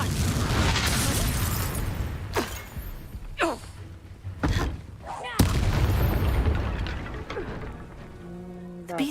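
A Confringo spell explodes in Hogwarts Legacy, with several booming bursts and sharp cracks scattered across the clip amid loud game combat noise and music.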